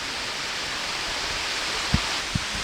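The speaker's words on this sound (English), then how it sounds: "over here is waterfalls coming down the sides of the canyon here" Small waterfalls run down the canyon sides beside a creek in Victoria Park, Truro, Nova Scotia, giving a steady broad rushing wash of water with two soft knocks near the end.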